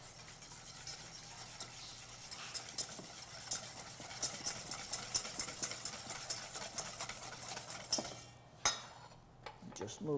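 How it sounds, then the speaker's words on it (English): A soy sauce mixture seasoned with salt and pepper is whisked in a bowl, a quick rapid scraping and clinking of the whisk over about eight seconds, then a few sharper knocks and quieter handling as it stops. "And then I want to whisk this up."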